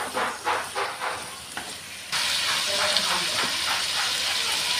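Ginger-garlic paste and spices fry in a pan, first a few soft scraping stirs over a light sizzle, then a sudden loud, steady hiss and crackle that holds to the end.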